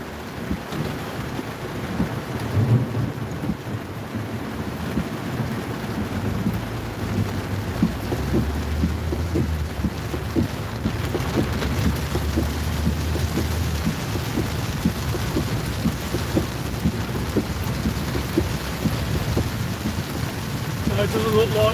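A thunderstorm over Longbridge toward Northfield near the Lickey Hills in North Worcestershire, with lightning about: steady rain hisses throughout while deep thunder rumbles roll underneath, loud and continuous across the whole stretch.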